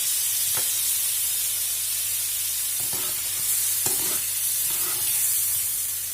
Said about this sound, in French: Ça va finir de bien cuire les boulettes à cœur.